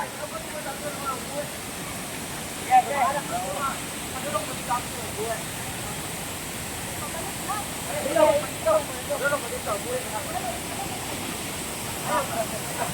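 Inambakan Falls in Ginatilan, Cebu, gives a steady, even rush of falling water at moderate distance, with voices talking over it now and then.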